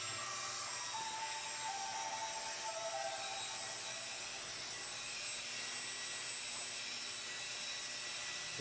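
An Avidus F30 portable high-speed fan runs at full speed, giving a steady, loud, even rush of air that holds without a break from start to finish.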